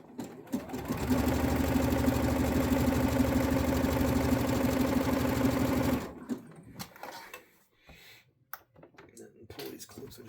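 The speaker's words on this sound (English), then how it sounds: "you want to let the sewing machine do the work" A sewing machine runs steadily for about six seconds while stitching elastic into a waistband, loud and close, then stops. Scattered handling clicks and fabric movement follow.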